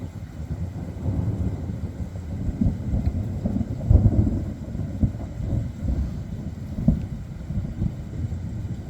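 Thunder from a Dallas–Fort Worth storm with cloud-to-ground lightning rolls as a low, moderately loud rumble, swelling in a few heavier bursts amid steady wind noise.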